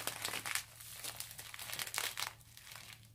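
Tissue paper and cellophane crinkle and rustle in steady bursts while a single rose is wrapped into a cone, close and fairly quiet with no talking.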